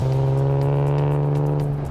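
An Aston Martin DBS with a straight-six engine drones steadily while driving, a loud, close, even engine tone held throughout with no speech.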